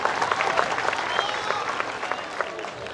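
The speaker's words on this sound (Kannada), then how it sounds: "ಚಪ್ಪಾಳೆ ತರ್ರಿ ಪಾಪ" An audience at a live comedy show applauds, with steady, dense clapping from a crowd that fills the whole moment without a pause.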